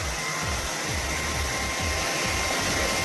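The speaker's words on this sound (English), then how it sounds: "Nice and blow dry." A handheld hair dryer blows steadily and loudly at close range while drying hair, a continuous even whoosh with no pauses and no talking.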